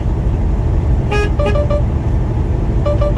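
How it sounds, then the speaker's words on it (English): Short car horn honks, one burst then a few more toots, sounding over loud steady road and engine noise from passing traffic. "there's the honking sound for the car that's next to me"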